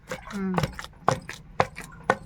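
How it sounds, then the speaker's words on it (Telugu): Elephant yam is pounded with chili powder for pickle, with four heavy, evenly spaced thuds about half a second apart, close and loud. A short voiced sound comes just before the first thud. "ఇప్పుడు అదంతా చక్కగా తొక్కుకోవాలి"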